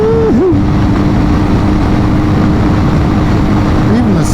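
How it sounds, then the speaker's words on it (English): A BMW R1250GS Adventure motorcycle engine roaring loud and steady at speed as the exhaust opens up, with wind rush, a brief vocal whoop and speech mixed in. "Even the sound is nice when that exhaust opens up."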